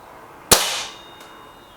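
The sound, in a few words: air rifle shots in a pellet test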